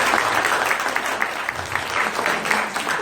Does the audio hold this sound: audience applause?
yes